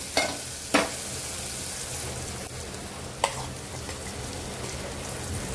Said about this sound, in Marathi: यामध्ये आता मूग घालून घेणार आहे